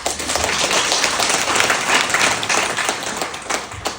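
Steady, dense applause from an audience at a spiritual retreat gathering, many hands clapping continuously and loudly for several seconds with no pauses.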